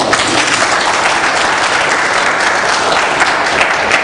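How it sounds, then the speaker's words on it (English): An audience at a public-service delivery panel breaks into a steady, dense round of applause that fills the whole stretch evenly, with no voices standing out above the clapping. "Give this man a round of applause."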